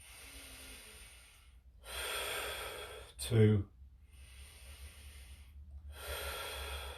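Slow, deliberate breaths, drawn in and let out in several long airy waves while a person holds a stretch with a stick or pole, with a short spoken word breaking in midway.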